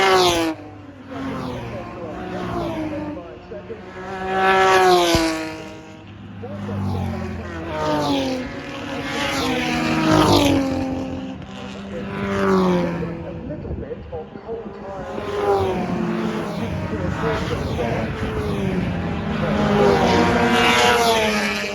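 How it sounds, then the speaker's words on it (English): A Buckler DB1 race car at the 2022 Goodwood Revival, its engine loud and rasping, rising and falling as it revs and passes through repeated surges over about twenty seconds. "that's the Buckler DB1"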